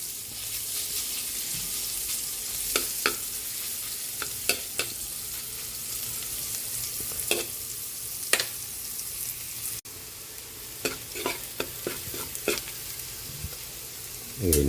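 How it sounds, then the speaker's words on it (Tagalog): Garlic sautés in butter in a pan for chicken pickles, a continuous close sizzle broken by repeated scraping and stirring clicks of a utensil. "Magigisa na po tayo para sa ating chicken pickles."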